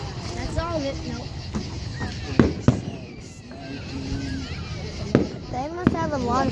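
Fireworks bang in a crowded outdoor display, a few sharp loud bursts and crackles standing out over steady crowd babble and nearby chatter.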